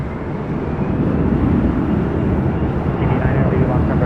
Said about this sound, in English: Next arrival, Southwest Airlines flight 2160 coming in from San Jose, California, 737-800.